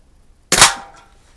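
A single sharp crack from a Crosman 140 .22 caliber pellet rifle fired at a can about seven yards away, close and loud, with a short decaying tail and quiet before it.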